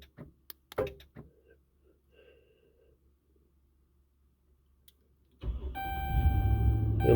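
Ram truck engine starting by remote start kit: a few faint clicks and small rattles, then near-silence, then the engine turns over and settles into a steady, rising idle rumble with a faint tonal hum, close by, no talking.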